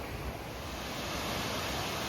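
Rugged Canyon Creek rushing near Lower Canyon Creek Falls in the Trinity Alps Wilderness, a steady broadband roar of fast-moving water, close and continuous without voices.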